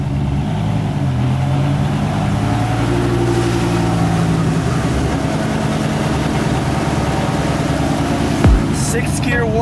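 A Tremec T56 transmission from a Dodge Viper GTS runs in sixth gear, giving a loud, steady mechanical drone with shifting tonal whine throughout and a brief knock near the end.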